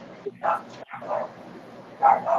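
Dogs give a few short, nearby barks in quick bursts, mixed in with people talking.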